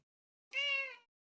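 A single drawn-out house cat meow, clear and close, about half a second long, alone against silence.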